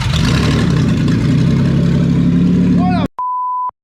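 Toyota MR2 Spyder with a swapped 1MZ engine and new exhaust idling loud and close, a steady low rumble that cuts off abruptly, followed by a short electronic tone.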